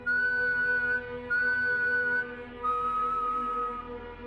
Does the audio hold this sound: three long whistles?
yes